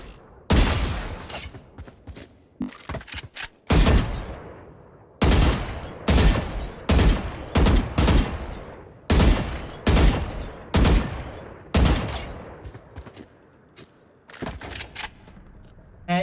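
Gunfire from the video game Valorant rings out in sharp, loud bursts, shots clustered in quick groups with short pauses between volleys and no talk.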